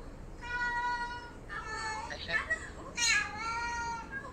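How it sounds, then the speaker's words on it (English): Cats meowing in several drawn-out, wavering cries, fairly close, with short pauses between them and a quiet background. "Two cats are making noise."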